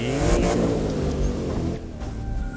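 In the racing video game The Crew 2, a car engine revs hard and loud for a couple of seconds, rising and falling as it accelerates, then eases slightly near the end. No one speaks over it.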